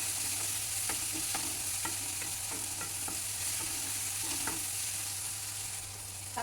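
Stirring and mashing tomatoes in a cooking pan with turmeric: steady sizzling and frying hiss with repeated light scraping taps of a spoon against the pan, close and continuous, no talking.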